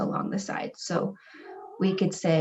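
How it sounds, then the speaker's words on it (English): A house cat gives a brief meow that rises between stretches of a person talking, faint and short in the middle of the speech. "Sorry about my cat."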